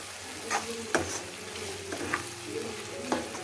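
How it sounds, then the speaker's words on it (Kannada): Sliced ivy gourd frying in oil in a pan for vangi bath, a soft steady sizzle broken by a few clinks and scrapes of a spoon stirring, close and fairly quiet with no talk. "ಇದನ್ನು ಒಂದೆರಡು ನಿಮಿಷ ನೀಟಾಗಿ ಫ್ರೈ ಮಾಡ್ಕೊಳ್ಳೋಣ"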